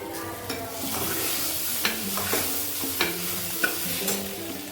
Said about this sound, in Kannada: ಒಂದು ಸ್ವಲ್ಪ ಅರಶಿನ ಹಾಕ್ಕೊಂಡು ಫ್ರೈ ಮಾಡ್ಕೊಳ್ತೀನಿ.